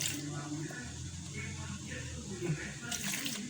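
Water being poured into bread dough made with semolina in a home kitchen, a steady close splashing trickle that runs continuously with some squishy mixing, while someone talks over it.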